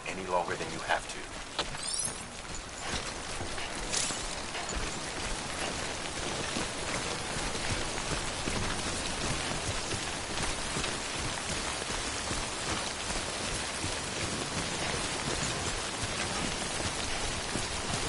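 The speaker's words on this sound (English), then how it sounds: "Don't stay out in the rain any longer than you have to." Steady, dense rainfall hisses continuously throughout, heavy and close, representing timefall in the video game Death Stranding.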